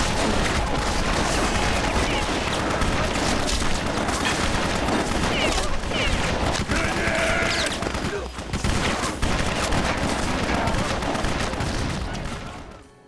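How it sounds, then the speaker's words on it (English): Dense, chaotic combat effects from the BloodRayne vampire action game, with continuous loud gunfire, bursts and impacts layered into a constant wall of sound that fades out at the end. "the fights can get a bit crazy in the sound department, to the point where I was missing dialogue or fun little quips Rayne would say"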